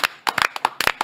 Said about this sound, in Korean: 박효석 기자님, 박수 한번 부탁드리겠습니다